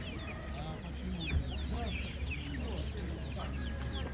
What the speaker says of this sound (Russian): Еще цыплятки тут разные.